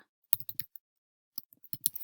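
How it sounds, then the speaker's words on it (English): A few short bursts of computer keyboard typing, quick clicks in two small clusters separated by a pause, close and fairly quiet. "forgot how to use a keyboard for a second there"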